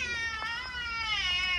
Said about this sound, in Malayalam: പുറത്തുനിന്ന് വന്ന പൂച്ചക്കുട്ടിയാണ്.